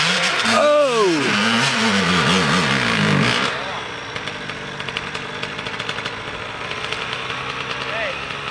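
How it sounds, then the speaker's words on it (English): Dirt bike engine revving hard on a rocky climb, loud and close, with the pitch rising and falling before it drops to a rougher, quieter putter; people talk and shout over it. "Bro, this bike's not powerful enough."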